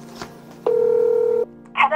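A telephone call rings out unanswered: one steady ringback tone lasts just under a second, clear and close, with faint background noise before it and a short burst of sound after it.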